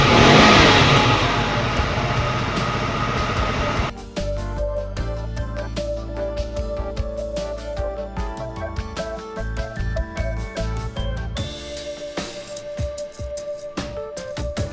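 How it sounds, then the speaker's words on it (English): A 2022 KTM RC 125 motorcycle engine runs, opening with a loud burst of revving, then settling into a choppy, pulsing idle with occasional blips of throttle. "This is on the idle and how it revs."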